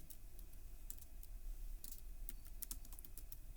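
Quick, irregular bursts of key clicks from a computer keyboard as HTML code is typed, faint and close over a steady low background hum.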